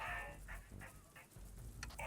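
Dog units bark in the C&C Rivals strategy game, a quick series of sharp, rhythmic yelps and barks over a steady game backdrop, repeating several times across a couple of seconds.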